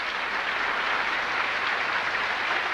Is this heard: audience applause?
yes